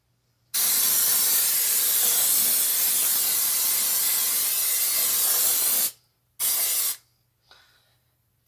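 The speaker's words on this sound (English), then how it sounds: "I'm going to use cooking spray." Cooking spray hisses onto the greased sides of a brownie pan in one long, loud burst of about five seconds, followed by a short second spray and a faint click before silence.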